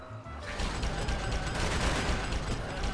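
A crank gun firing in the video game Rimworld, a continuous rapid rattle of shots mixed with other gunfire, loud and dense for the whole moment.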